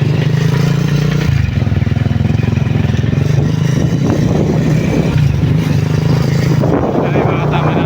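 A tricycle and a motorcycle ride on Jomalig Island with a loud, close, continuous engine drone. Rattling and scraping clatter runs over it throughout.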